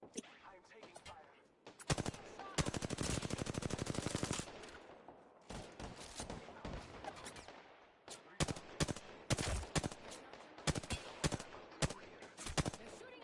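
Rapid bursts of automatic gunfire in a shooter video game, a sustained machine-gun volley followed by repeated short loud bursts, with voices calling out underneath.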